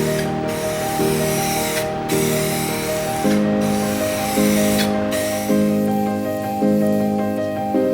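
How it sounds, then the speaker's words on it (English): Clear shellac top coat is sprayed onto restored painted furniture from a spray gun, giving a loud continuous hiss with brief breaks and a steady mechanical hum underneath. "For the top coat, I'll spray on several layers of clear shellac."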